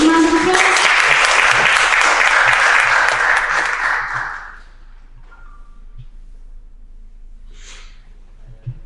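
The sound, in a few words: audience applause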